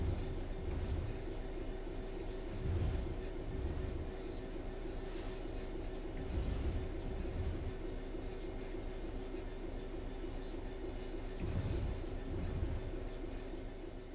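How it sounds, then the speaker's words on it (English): Train coasting on level ground in a train simulator video game, a steady low rumble of rolling wheels with faint clickety-clack joints thudding every few seconds, continuous and moderately quiet with no talk. "The train will then coast on level ground, and the train will only slow down very gradually."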